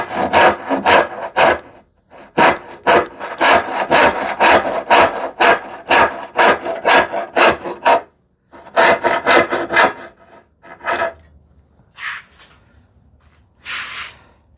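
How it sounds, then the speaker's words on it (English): Wood being cut with a toothed hand saw, close, crisp rasping push strokes in a quick regular rhythm, pausing briefly, then resuming before slowing to a few scattered final strokes. "I could use a finer tooth saw"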